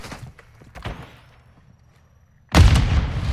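A grenade goes off in Call of Duty DMZ, a sudden loud close blast that rumbles on after a quieter stretch of scattered distant shots and movement.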